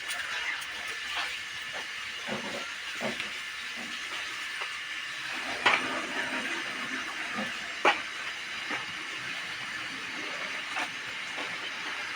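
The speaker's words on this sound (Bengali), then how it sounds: "এবার এটা দিয়ে এবার ভালো মতন কষিয়ে নেব" Paneer curry being sautéed in a pan, a soft steady hiss of frying with occasional light clicks and taps of a spoon, fairly quiet and without talking.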